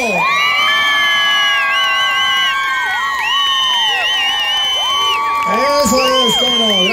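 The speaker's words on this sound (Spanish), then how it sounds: "vamos a pedir el aplauso para la pareja número uno" Festival crowd at a Baja California mission fiesta cheering, whooping and shouting loudly and continuously for the first dancing couple, with children's high shrieks and sustained voices filling the space, rising toward the end.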